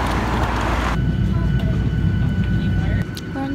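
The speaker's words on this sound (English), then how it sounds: "We're on the plane home." Airplane cabin on a flight home from Dublin: a loud, steady low engine rumble and air hiss filling the cabin, easing slightly near the end.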